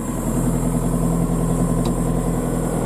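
Excavator engine idling without throttle, a steady low diesel drone with even harmonic hum, close and continuous.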